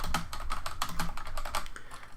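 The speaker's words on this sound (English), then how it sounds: "I'm just going to type in the title of what I have." Rapid, steady keystrokes on a computer keyboard as a title is typed, close and clear, a short unbroken burst of clicking with no voices.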